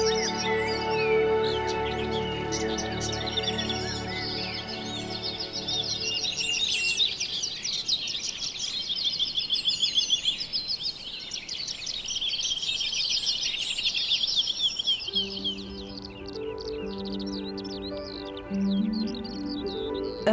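Dense European spring birdsong, many overlapping chirps and trills from several birds at once, loud and continuous throughout, with a steady low background hum beneath.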